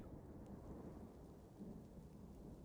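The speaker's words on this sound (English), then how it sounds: "The rain sound of this game is so just accurate." Steady rain with low rolling thunder from the Dwarf Fortress game, a continuous even wash of rainfall under a deep rumble, alone and fairly quiet throughout.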